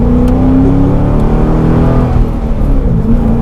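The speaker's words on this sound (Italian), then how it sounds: "cambio manuale, grosso motore vuoto aspirato" A Corvette C6 with a big naturally aspirated engine and a manual gearbox roars loudly up close, its deep rumble holding steady and surging slightly as the revs rise.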